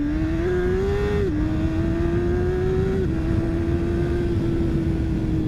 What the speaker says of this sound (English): I'm riding it very low in the RPM range, especially for the 600s, but this thing is so torquey.